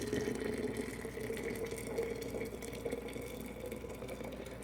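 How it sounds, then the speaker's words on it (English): Hot water pours steadily and continuously into a jar, a full, bubbling gush with no pauses. "I'm just pouring the water in"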